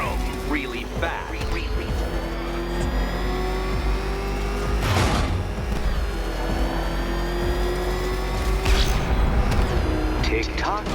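Batmobile engine in the video game Batman Arkham Knight, a steady loud motor drone with rising revs and a couple of surging bursts, under game music and effects throughout.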